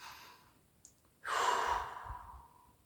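A single deep breath during guided meditation: a soft, close exhale that swells and slowly fades in an otherwise quiet room.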